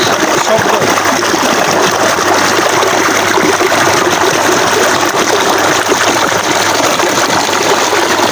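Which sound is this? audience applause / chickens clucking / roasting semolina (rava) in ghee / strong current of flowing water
strong current of flowing water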